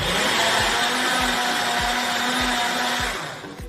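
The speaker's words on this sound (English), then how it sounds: "just going to blend this bit up." A blender whirs steadily at close range, grinding homemade salsa with chopped onion in one continuous loud motor drone that eases off slightly at the very end.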